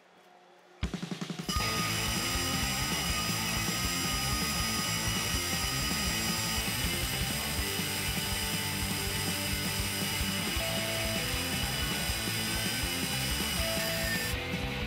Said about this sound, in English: We started out with a 1-inch DeWalt carbide bit and drilled about 4 inches deep.